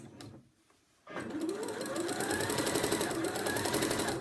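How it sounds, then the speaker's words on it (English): A sewing machine stitches interlining onto a velvet cuff piece for an elf Christmas stocking, a brief handling rustle and pause giving way to a steady, close, continuous mechanical whirr that runs unbroken to the end. "I'm now machining the interlining onto a cuff piece"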